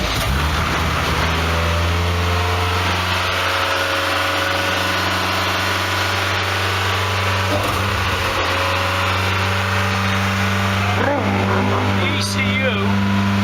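A classic Nissan restomod car engine idling high and fast on a cold start after sitting unused, a loud steady hum with a slight dip in pitch later; a person talks over the running engine.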